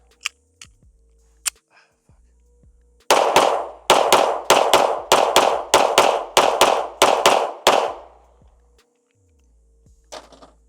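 A Springfield Hellcat Pro Comp pistol fires a rapid string of about ten sharp, loud shots in quick succession, followed by a few quieter clicks and handling sounds.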